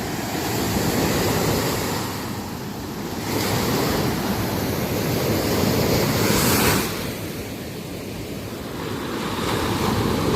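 Ocean waves roll onto a shore in slow surges that swell and fade, with strong wind buffeting the microphone throughout; no one speaks.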